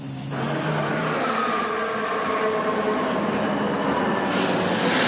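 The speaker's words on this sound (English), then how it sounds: "Yes, the first cars are on track at the start of the season." Formula 1 cars running on track during 2023 Bahrain free practice give off a steady, loud, continuous engine roar that holds unbroken throughout, with no talk.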